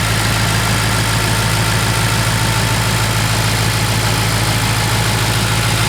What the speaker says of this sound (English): Sounds like a Vanos noise that you heard from BMWs in 1996.